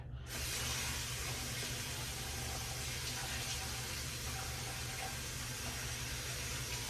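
Water running steadily from a tap to rinse a shaving razor, a constant close hiss and splash that holds at an even level throughout, with no speech.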